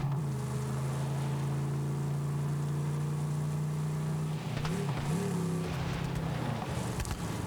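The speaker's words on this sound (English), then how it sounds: "it's got like a deep rumbling engine noise" A car engine in Borderlands 3 drones with a deep, steady rumble, loud and continuous, then briefly shifts pitch as if revving before settling again near the end.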